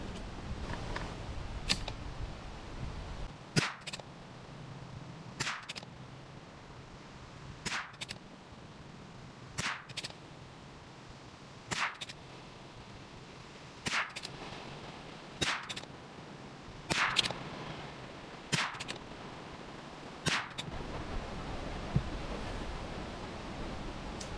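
.22LR rifle shots fired with Federal Champion 36 grain CHP ammunition, about ten sharp cracks spaced every couple of seconds, fairly close and loud over quiet outdoor background.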